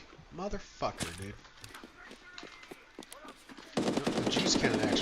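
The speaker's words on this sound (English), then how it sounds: "The juice cannon actually sounds kind of fun" A juice cannon weapon fires in a video game, rapid sputtering shots in short clusters, then a loud sustained stream of fire near the end, under a voice talking over the gameplay.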